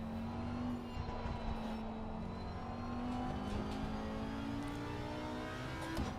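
A GT4 race car engine in Assetto Corsa Competizione drones steadily at close range, with a sustained harmonic tone that climbs gently across the run and a faint gear-change blip near the end.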